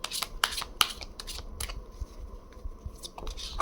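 Chakra cards are shuffled by hand in a series of crisp riffling and flicking bursts. The sound is close and fairly quiet, with no talking.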